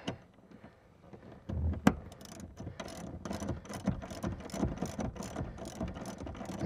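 A ratchet socket wrench snugs down a bolt on a 2021 Toyota Tacoma seat during a leather seat install, giving quiet irregular clicking and scraping at close range with no talk.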